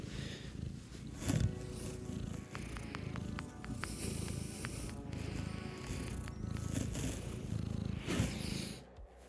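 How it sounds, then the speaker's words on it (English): A cat purrs softly and steadily in a quiet room, a low rhythmic rumble picked up from some distance, with faint clicks and small background noises. "The mic is picking up purring from so far away"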